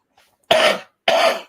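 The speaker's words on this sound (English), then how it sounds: "Stop coughing." Two separate, harsh coughs close to the mic, each about a third of a second long, with a short silent gap between them.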